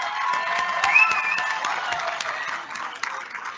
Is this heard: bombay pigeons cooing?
no